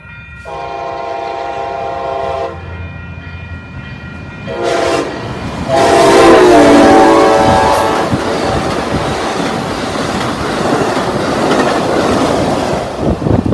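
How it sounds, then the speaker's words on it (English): An Amtrak passenger train passes through Carlsbad Village station, sounding several loud horn blasts before the nearby rumble and rhythmic clatter of the cars rolling by fills the rest of the scene. "Hey, Amtrak 528, welcome to Carlsbad Village."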